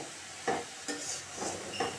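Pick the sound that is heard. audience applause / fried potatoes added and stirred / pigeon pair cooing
fried potatoes added and stirred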